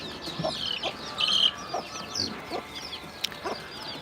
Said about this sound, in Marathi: तरी ते कोंबडी बसवली आम्ही अंड्यासाठी